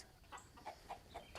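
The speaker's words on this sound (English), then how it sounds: "listen to the chickens a-fussing in their trees back there" Chickens fussing and clucking while roosting in a big old locust tree, a few short faint calls spaced through a quiet rural evening.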